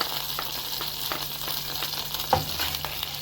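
Garlic fries in hot oil in a small saucepan, giving a steady, close hiss of sizzling with a few faint stirring taps and one sharper clink.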